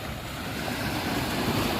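Gentle sea waves wash onto a beach shore at dawn, a steady soft rushing wash with wind noise, no voices.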